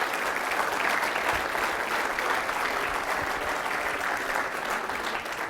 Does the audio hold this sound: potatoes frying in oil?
no